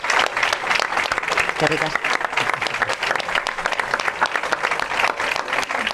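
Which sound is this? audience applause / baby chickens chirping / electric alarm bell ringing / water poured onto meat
audience applause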